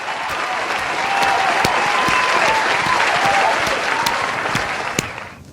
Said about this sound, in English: Let's give a good round of applause for them as well.